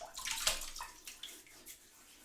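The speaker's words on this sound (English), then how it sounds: "All right, time to put some water on the face." Water splashed onto the face by hand at a sink before a wet shave, a brief cluster of close, wet splashes and trickles lasting about two seconds.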